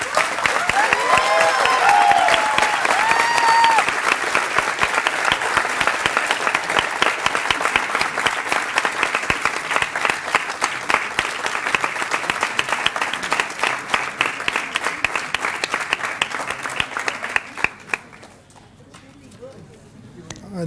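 Audience applause after a hackathon presentation, a dense, sustained clapping from a crowd that stays loud and even for about seventeen seconds before quickly dying away.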